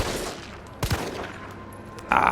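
Gunshots in the video game Resident Evil 3 Remake, one sharp blast near the middle of the clip, followed by quieter game sounds and a brief burst near the end.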